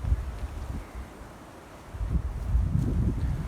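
Strong, cold wind in a forest buffets the microphone in a steady low roar, gusting louder in the second half with no voices.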